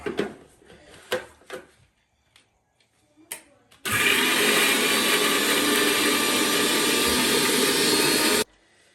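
A mixer grinder whirs loudly and steadily for several seconds as it grinds mint, ginger and garlic. Before it starts there are scattered knocks and clatter.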